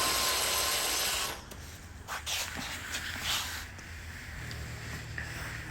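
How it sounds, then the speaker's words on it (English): A power driver sets screws into a bracket on a Maytag Bravos XL electric dryer, a close, fairly quiet whir that fades into a few light rubbing and clicking handling sounds. "you're gonna screw 2 1/4-inch screws"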